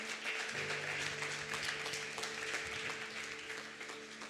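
Church congregation on its feet clapping together for God during a worship service, steady dense applause sustained throughout, with a low hum of organ or keyboard chords underneath.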